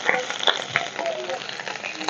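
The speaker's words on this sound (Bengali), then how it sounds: "পটলগুলো আমি আগে ভেজে নেব" Cut pointed gourd fries in hot oil with a close, crackling sizzle and scattered sharper pops over a brief stretch.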